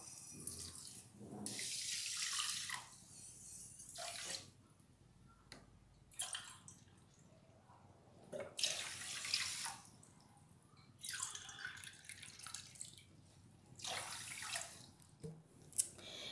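Water is poured from a cup onto sugar in a pan to make syrup for rajbhog sweets, several splashing pours broken by short quiet pauses.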